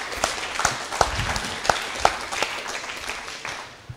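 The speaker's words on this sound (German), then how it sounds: "einen Applaus für euch selber" Participants at a community camp event give moderate applause, a modest crowd with a handful of distinct close claps standing out, fading toward the end.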